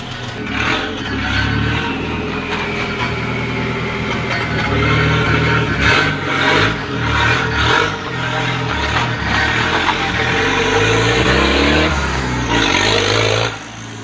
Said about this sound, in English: the car is running now with no exhaust.